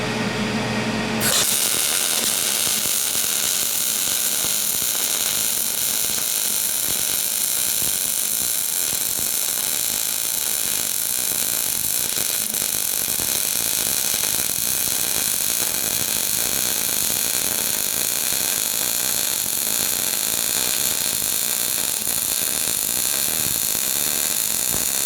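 A PrimeWeld 285 MIG welder laying a bead: steady, loud, close crackling and sizzling hiss that starts abruptly and runs continuously without pause, with no talking over it.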